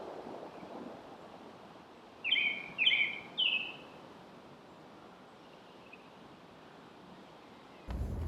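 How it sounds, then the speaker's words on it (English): A blue-winged warbler at Horn Pond gives three short, buzzy song notes in quick succession, moderately close, over faint steady outdoor ambience, followed by a brief bump of handling noise at the end. "next up is this blue-winged warbler, which is actually one of the less common warblers that we get here at Horn Pond"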